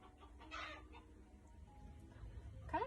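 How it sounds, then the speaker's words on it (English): A pet hen clucks faintly indoors, a few soft broken calls with a louder burst near the end, over a low room hum and no talking. "my chicken has decided that she did not get enough accolades, and she is clucking again"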